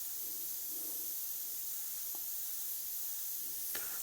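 An airbrush sprays black and grey paint onto a leather motorcycle saddlebag, giving a steady, soft, continuous hiss close by with a couple of faint clicks and no talking.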